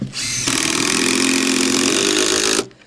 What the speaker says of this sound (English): I'm just going to put a screw in there and a screw in this end